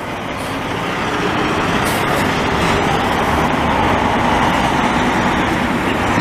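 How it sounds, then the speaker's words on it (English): A hard-working, dirty truck passing on a Montreal street, a loud, continuous low engine and road roar that stays heavy and steady throughout, with no voices over it. "Man, that truck been working hard."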